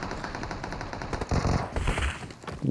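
Gunfire in the video game PUBG on the Erangel map, rapid automatic bursts crackling in quick succession with a few heavier booming shots, loud and dense throughout.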